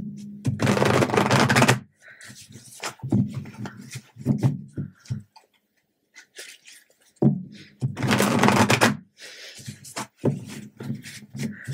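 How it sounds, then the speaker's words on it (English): Tarot cards are riffled in two quick bursts of rapid flutter, separated by soft handling taps and clicks, close and fairly loud. "One more shuffle for you."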